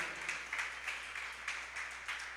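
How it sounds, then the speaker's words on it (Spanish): Church congregation clapping, a faint, steady rhythmic applause in an evenly spaced beat, soft and distant with a low hum underneath. "Sí podemos aplaudir al Señor por su palabra"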